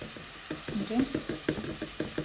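Curry with ginger and turmeric is stir-fried in a pan, soft sizzling mixed with rhythmic scraping and knocking of a spoon against the pan, repeating every half second or so, fairly quiet and close.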